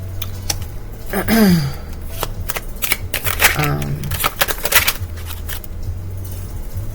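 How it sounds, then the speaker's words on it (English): Tarot cards are shuffled and spill onto the floor during a reading, giving quick riffling flutters and soft slapping clicks in several bursts, with a person talking over them. "These cards falling on the floor like a card catcher or something."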